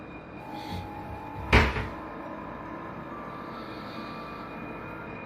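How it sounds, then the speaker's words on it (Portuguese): Cupboard door swinging open on its own, a single short wooden knock-and-creak close by, rising briefly above a faint steady background hum. "A porta do armário bem ao lado dele se abre sozinha de repente"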